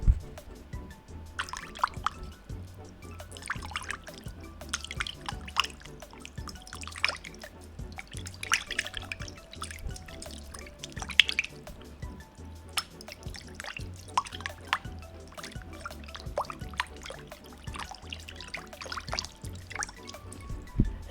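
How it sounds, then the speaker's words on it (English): Water is splashed around in a hot tub, making scattered close drips, sloshes and small splashes in an irregular rhythm that continues throughout. "I'm gonna splash some water around."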